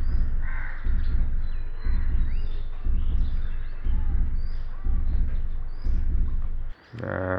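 Young crow, soaked by rain and grounded, cawing in a steady series of loud, close harsh calls at a regular rhythm, with faint ambient noise and a brief rustle near the end.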